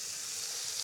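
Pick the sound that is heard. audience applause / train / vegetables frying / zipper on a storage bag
vegetables frying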